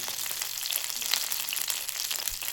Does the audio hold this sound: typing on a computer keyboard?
no